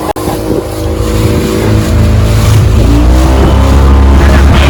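A motorboat engine at Dwarka roars close by, droning steadily and rising in pitch as it revs up after a sharp click at the start.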